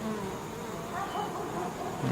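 Honeybees swarm over an opened hive frame during a fall inspection, a dense, steady buzzing drone that fills the whole stretch, close and continuous with no talk.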